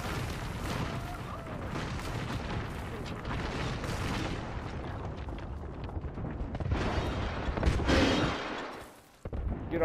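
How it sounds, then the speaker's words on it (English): Airstrike explosions in the battle royale game Apex Legends, a dense rumbling barrage of booms and blasts rolling continuously, swelling louder near the end before a brief drop and a final sharp hit. "Yeah, my airstrike, get underneath."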